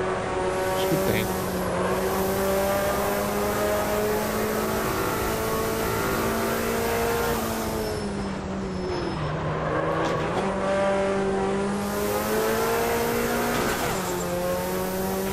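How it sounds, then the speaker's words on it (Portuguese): A race car engine in the Automobilista 2 sim screams steadily near the rev limiter, its loud tone holding high with brief dips and stutters as it bounces off the cutoff, the sound dense and continuous throughout. "O limitador bate muito cedo ali."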